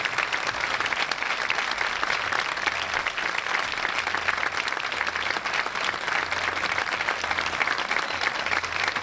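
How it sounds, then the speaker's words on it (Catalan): A crowd at the 2019 Estivella town festival proclamation claps hard for a band director, giving dense, continuous applause that stays loud and even from start to finish. "L'aplaudiment més gran de la nit per ell."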